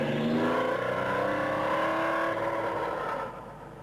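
An official Renault 5 Turbo rally car at the 1981 event, its engine revving and rising in pitch as it accelerates, then fading away near the end.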